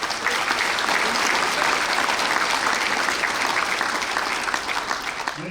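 Ivy Day 2024 crowd applauding the Ivy Day Award recipients, a steady, dense wash of clapping from many hands that holds at full strength throughout, with no voices rising above it.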